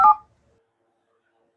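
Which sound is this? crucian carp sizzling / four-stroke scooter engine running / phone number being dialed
phone number being dialed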